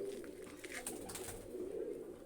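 Pigeons at feeding time in a loft coo softly and continuously, faint beneath a steady background hum.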